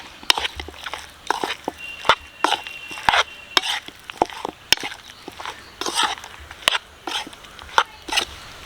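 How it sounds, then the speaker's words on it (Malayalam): Chicken is mixed with ice cream and honey in a bowl at home: quiet, irregular sharp clicks and scrapes of a utensil against the dish, fairly close, with faint voices in the background. "അപ്പോൾ ഇതിനെയും കൂടെ നമുക്കൊന്ന് മിക്സ് ചെയ്യാം, ഐസ്ക്രീമും കൂടെ ചേർത്ത്"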